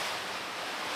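Rough ocean waves and gusting wind on a sailboat during a hard offshore passage, a steady loud broadband wash of surf and wind noise throughout with no speech.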